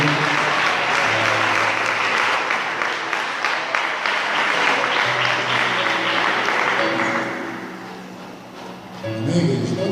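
A church congregation gives its pastor sustained applause, loud and dense for most of the stretch and then fading briefly before swelling again, with voices mixed in.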